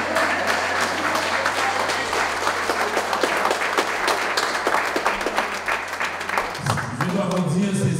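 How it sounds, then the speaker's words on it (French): Dense audience applause at a gala honoring a school official, many hands clapping steadily and loudly, giving way near the end to a voice speaking. "Applaudissons, monsieur Whitney."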